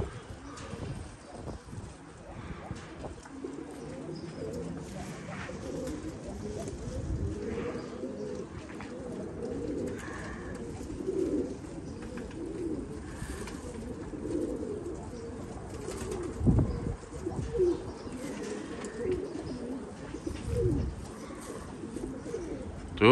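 Pigeons coo repeatedly in soft, low, rolling phrases, fairly close, over a murmur of background noise and occasional faint chirps from other birds.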